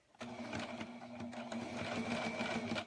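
A sewing machine running a short stitch on a gingerbread man hand warmer, a steady continuous motor whir with rapid needle clatter for nearly three seconds, close and alone without talk.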